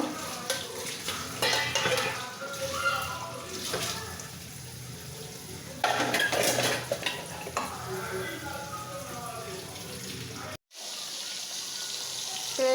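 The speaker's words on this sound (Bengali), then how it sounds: "তো মাছগুলো ভেজে নিচ্ছি রান্না করার জন্য" Fish frying in a pan in a home kitchen, a continuous close sizzle with frequent stirring clatter and a sound like running water, cut by a brief silence near the end.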